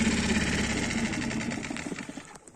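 A Mercury 6 four-stroke outboard boat motor runs with a fast, even mechanical chatter close by, then tapers off in the final moments.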